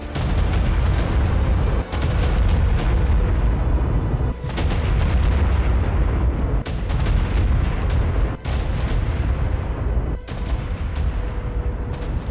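Constant booming blasts from Chaos Bee explosions in the video game ARK with the Primal Fear mod, loud and continuous over twelve seconds with sharp repeated cracks and rumbling.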